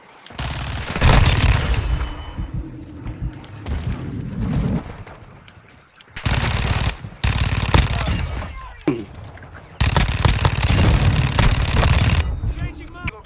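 SMG fire in the Modern Warfare 2 video game comes in three long, loud bursts of rapid shots separated by short pauses, with game radio voices and other speech over the fire.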